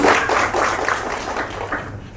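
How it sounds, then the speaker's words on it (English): An audience at a panel forum claps for a presenter, a fairly loud, broad patter of applause that slowly tapers over about two seconds. "please give a round of applause for her"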